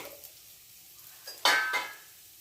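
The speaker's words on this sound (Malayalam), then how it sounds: "അരപ്പിട്ട് ഒന്ന് ഇളക്കണേ" Ground coconut paste stirred into jackfruit thoran in a pan, faint scraping at first, then a couple of loud close spoon-against-metal scrapes with a soft sizzle underneath, no voices.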